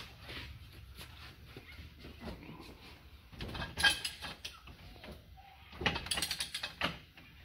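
A tight RZR clutch held in a vise is forced loose with a bar, giving faint, irregular clanks and ratchety creaks, with two louder metallic bursts near the end.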